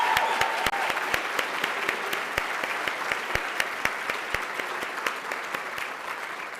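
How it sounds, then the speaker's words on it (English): Fundraiser audience applauding, a broad roomful of clapping with a few sharp, close individual claps standing out in a loose rhythm, slowly thinning toward the end. "a massive round of applause for Dr. Verna and Brother Shane"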